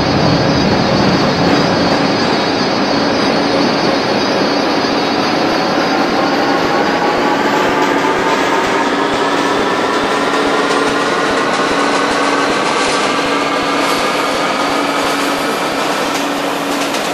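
NYC subway E local train, Manhattan-bound, running in the OpenBVE simulator game. A loud, continuous motor whine rises steadily in pitch as the train accelerates, over constant wheel and track rumble.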